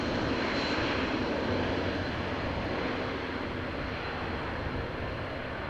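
An airliner takes off from runway 24 at Amsterdam Schiphol, its jet engines a steady, broad roar that holds at a constant level from start to finish.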